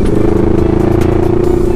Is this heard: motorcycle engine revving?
yes